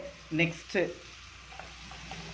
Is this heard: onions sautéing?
yes